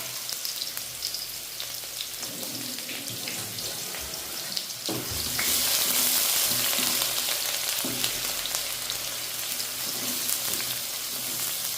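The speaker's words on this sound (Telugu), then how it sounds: "ఉల్లిపాయలు బాగా వేగుతూనే ఉంటాయి లాస్ట్ వరకు" Thinly sliced onions drop into hot oil and fry with a continuous sizzle that swells noticeably louder and hissier partway through, with occasional stirring clatters; no speech.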